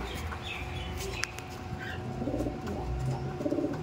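Racing pigeons at a pigeon market in Dum Dum coo softly and repeatedly, their low throaty calls layered with light rustling and distant background noise, no voices standing out.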